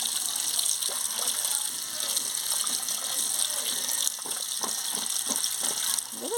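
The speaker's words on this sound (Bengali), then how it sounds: "আনাজটা ধুয়ে নিচ্ছি, কাটা হয়ে গেছে, এবারে ধুয়ে নিচ্ছি।" Tap water running steadily while chopped papaya is washed in a home kitchen, a continuous hiss with faint clinks of vegetable pieces, close and moderately loud.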